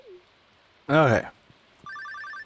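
A video game telephone rings in Stardew Valley, a short run of quick electronic chirps that comes right after a brief burst of voice.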